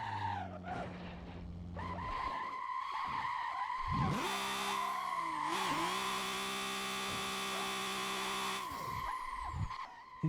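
A car drifting in a driving video game, tires squealing in long sustained skids over a revving engine, with short screeches at first building into a loud continuous slide; no voices.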